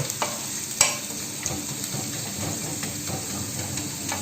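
White sesame is stirred into a frying dish, giving a steady sizzling hiss with a sharp clack of the spoon near the start and lighter scraping taps throughout, close and fairly loud.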